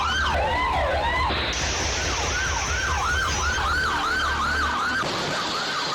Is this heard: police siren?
yes